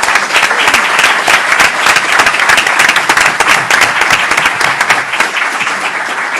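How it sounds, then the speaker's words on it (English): Audience applause for the Haywood family at a public event with a governor, steady dense clapping throughout, loud and sustained with no talk over it. "let's give them a round of applause"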